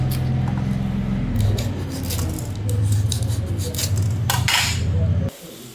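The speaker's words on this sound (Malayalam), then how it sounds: "പച്ചമുളകും ചെറുതായിട്ടൊന്ന് കട്ട് ചെയ്തിടാം" Green chilies are cut into small pieces with a run of quick, crisp snips and clicks repeating close by, stopping abruptly near the end.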